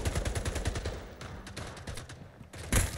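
A laser rifle fires in the sci-fi shooter Splitgate: a fast, steady string of rapid pulsed shots, fairly close, that thins toward the end before a sharp, louder blast.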